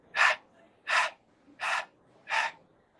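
A male dog breathes through open nostrils in four evenly spaced, soft, close puffs of airy sniffing, each about half a second long, with quiet gaps between them.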